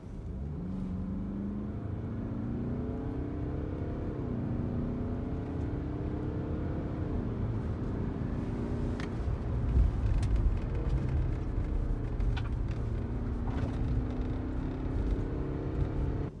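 A 2018 BMW X3 xDrive diesel SUV pulls away from a standstill, its engine a steady low drone with rising and falling rev sweeps, heard up close and continuous with no talking.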